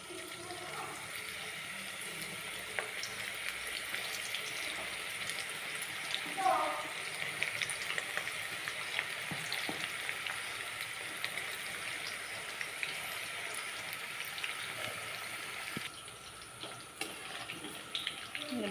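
Drumstick flower pakoras fry in hot oil in a kadhai, giving a steady, close crackling sizzle that holds for the whole stretch with little change in level.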